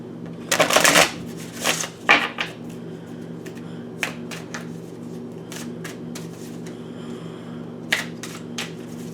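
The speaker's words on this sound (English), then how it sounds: "We're going to mix up the other cards here, the Oracle deck with the Wisdom of the House of Might." An oracle deck being shuffled by hand, close crisp riffles and flicks of cards, busiest at the start, then scattered lighter taps and snaps over a low steady hum.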